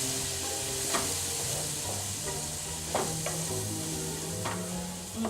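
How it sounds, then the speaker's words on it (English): Pepper flakes and pepper sauté in a pan with a steady close sizzle, and a few sharp scrapes from stirring cut through the frying. "We're gonna saute this together with our pepper flakes."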